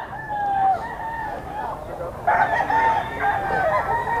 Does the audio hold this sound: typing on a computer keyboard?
no